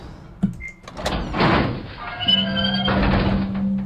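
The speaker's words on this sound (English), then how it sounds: "even though it's a very low-res garage door opening sound" A low-resolution garage door in the video game Nevermind grinds open over a few seconds, with a thunk at the start, a rising mechanical rush, then a steady low motor hum joined by a higher whine, fairly close and alone.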